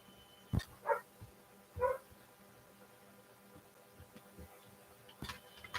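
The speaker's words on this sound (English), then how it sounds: "That was my dog asking to come inside." Dog barking outdoors to be let inside, a few faint, separate barks in the first seconds and another near the end, over quiet background with soft ticking.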